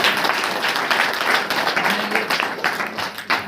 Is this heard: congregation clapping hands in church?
yes